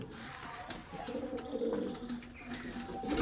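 Pigeons coo quietly in the background, soft low rolling calls that come and go over steady ambient noise, faint and with no talking.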